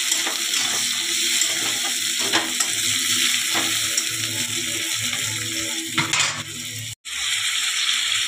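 Goat meat fries with a steady, loud sizzle while a spoon stirs it in a pot, scraping now and then. The sizzle runs without a break except for one sharp drop to near silence about a second before the end.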